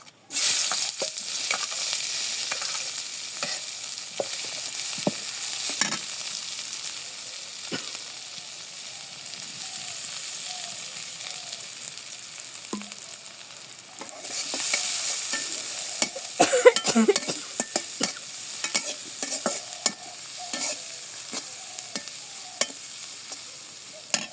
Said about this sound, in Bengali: ডিম ভাজা শেষ আমি নামিয়ে নিই পেঁয়াজ দিয়ে দিই